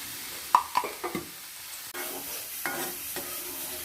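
Finely chopped beans and carrots drop into a hot pan for noodles with a few sharp stirring clatters, then settle into a soft, continuous sizzle nearby.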